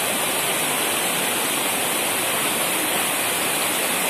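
A waterfall in a forest roars as a dense, steady wash of falling water, loud and constant with no other sounds.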